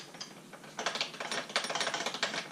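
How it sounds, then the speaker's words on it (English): Adjusting a bicycle brake lever, a close run of quick ratcheting mechanical clicks that turns rapid and steady after a brief quieter start. "I wanted to loosen up this brake lever a little bit more"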